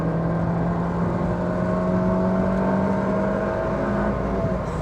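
A small 1.7-litre Ford Puma engine drones loudly and steadily in third gear, its pitch climbing slowly as it revs toward 7,000 rpm, heard close up from inside the car with no talk.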